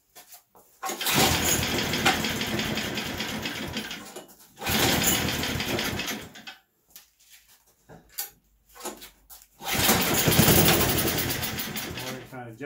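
An Agway snowblower's small engine sputters to life in repeated bursts, running roughly for a few seconds, cutting out with choke-related stalls, then restarting loudly; brief voices are heard in the gaps.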